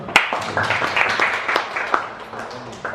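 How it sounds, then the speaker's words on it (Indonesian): Attendees at a literacy school event clap to welcome a speaker, a moderate patter of scattered applause with a few sharper individual claps, with talk running under it. "Tepuk tangan."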